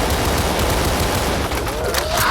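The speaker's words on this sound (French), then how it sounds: "Grosse mitrailleuse, là." Heavy machine gun firing in the video game Brutal Doom, a loud, dense and continuous burst of rapid gunfire that fills the whole stretch without a break.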